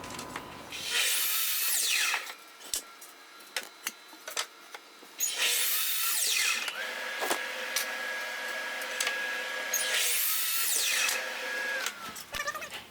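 A power tool cuts through 5/8-inch-thick wooden boards in three loud whining passes, each rising and falling. Quieter knocks and handling noises fill the gaps, and a faint steady tone runs through the middle.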